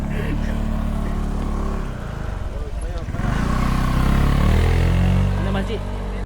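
Motorcycles ride along a road to Fraser's Hill, engines droning and revving up and down close by, with a passing bike swelling loudly midway under the rider's own engine noise.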